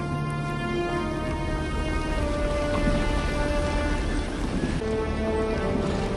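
Cold, stormy weather with steady rain pours continuously at an even level, with low sustained tones running underneath throughout.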